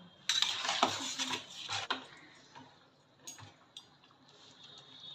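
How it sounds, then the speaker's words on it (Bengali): Cooked chana dal being poured out of a cooking pot, with a cluster of metallic clinks and scrapes from utensil and pot rim, then softer taps tapering off, close and fairly quiet, no voices. "ছোলার ডাল রান্না হয়ে গেছে, এবার আমি ঢেলে দেবো।"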